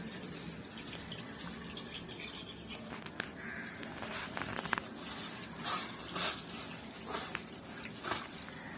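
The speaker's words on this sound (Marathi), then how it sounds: "पोहे असे धुवून घ्यायचे पाण्याने" Flattened rice (poha) is rinsed under running water over a vessel for kanda pohe, a quiet continuous trickle with soft splashes and small sloshing bursts, no voices.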